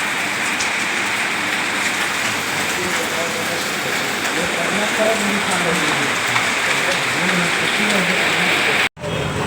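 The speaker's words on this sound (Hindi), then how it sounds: "महासमुंद में मस्त बारिश गिर रहा है, देख सकते हो।" Steady rain falling in Mahasamund, a dense continuous hiss of drops on surfaces, fairly loud and even throughout, with a brief dropout near the end.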